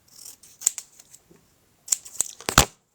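Scissors snipping white parts off a handmade paper logo, a few short crisp cuts close by, one near the start and a quick cluster of sharp snips toward the end.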